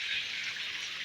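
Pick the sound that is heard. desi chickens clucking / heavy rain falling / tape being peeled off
heavy rain falling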